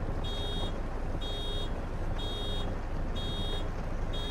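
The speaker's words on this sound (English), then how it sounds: "This thing beeps when it's getting full." A harvesting machine in Farming Simulator 22 on a Scottish farm map beeps as its tank fills, a steady series of evenly spaced high electronic tones over a constant engine drone.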